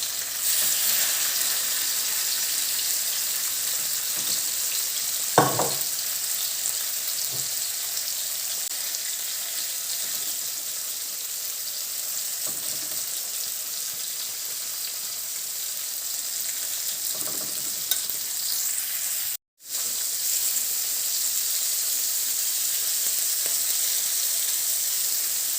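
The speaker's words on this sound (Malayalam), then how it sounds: "4 എണ്ണം മുറിച്ച് നല്ലപോലെ മെരിനേറ്റൊക്കെ ചെയ്ത് കുറച്ച് നേരം വച്ചതിന് ശേഷം ഇതേപോലെ ഒന്ന് വറുത്തെടുത്തു കേട്ടോ" Marinated sardines sizzle and fry in a pan with a steady, close hiss that runs throughout, broken by a brief stir or clatter near the start and a momentary cut later.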